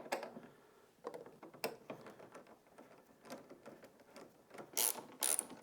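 Ratchet clicking as T25 Torx screws are backed out of the speaker area of a 2024 Harley-Davidson Road Glide outer fairing, with irregular bursts of close mechanical ticking and a louder run of clicks near the end.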